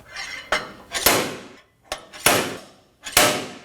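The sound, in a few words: slide hammer on a wheel hub removal tool, Nissan Armada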